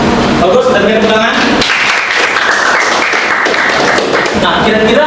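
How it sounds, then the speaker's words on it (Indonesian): Students in a classroom break into applause, a dense burst of clapping that swells midway and continues loudly, with voices mixed in at the start and end. "dan beri tepuk tangan"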